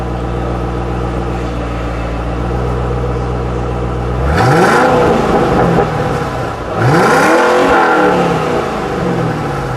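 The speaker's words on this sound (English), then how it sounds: "All right, Manny, let's give it a little rev" A white 2007 Ford Mustang Shelby GT idles with a steady low rumble, then revs twice in loud, close bursts that rise sharply and fall back to idle.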